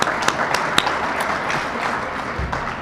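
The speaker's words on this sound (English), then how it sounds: "So a big round of applause for putting this together." An audience at a public labor rally gives a round of applause, a dense, steady wash of many hands clapping, close and loud throughout with no talk over it.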